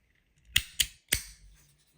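A 3D-printed Tron-style fidget slider snaps shut three times, sharp close plastic clicks in quick succession with a brief pause before the third.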